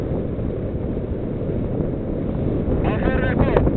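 Steady, strong wind rushing over the microphone during a paragliding flight on a hillside, continuous and loud throughout, with a voice speaking briefly near the end.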